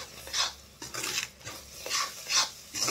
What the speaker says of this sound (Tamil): இப்போ இந்த தேங்காவை போட்டு இதில் நீங்கள் அப்படியே கலரும்.